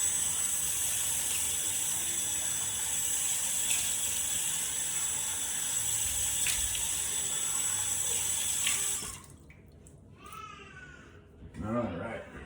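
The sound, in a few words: water running while washing face at sink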